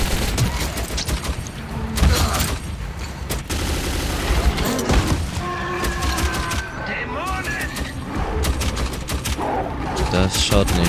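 Gunfire in the Metro video game, with repeated shots and bursts over a dense, rumbling game soundscape, partly under someone talking.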